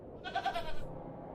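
A goat bleats in the adventure game Hob's Barrow: a short, moderately faint cry of under half a second, standing alone over soft background ambience.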